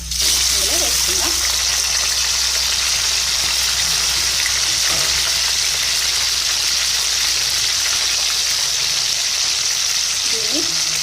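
Boiled mutton pieces fry in hot oil for a mutton chutney, giving a loud, steady sizzle and hiss that runs unbroken throughout, with faint stirring underneath.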